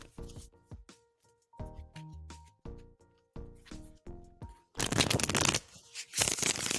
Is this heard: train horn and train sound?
no